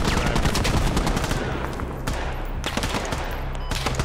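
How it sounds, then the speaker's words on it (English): Dense small arms gunfire in a military shooter video game, with rapid automatic bursts and overlapping shots rattling continuously at close range, loud and without talk. "They have a small arms fire pretty close on us, too."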